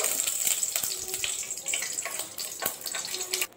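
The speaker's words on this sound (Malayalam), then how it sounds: "ഇനി നമുക്കതിലോട്ട് നെയ്യ് ഒഴിച്ചു കൊടുക്കാം." Ghee poured into a hot pan while making carrot halwa gives a loud, steady sizzling hiss that runs throughout, with a few brief crackles and dips.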